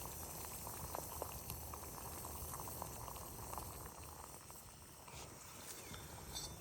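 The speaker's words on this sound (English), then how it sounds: "as you can see, we're boiling" Water bubbles and simmers in a pot set on top of a burning Swedish fire log outdoors, with a steady, faint rolling boil and soft crackle running continuously and nobody speaking.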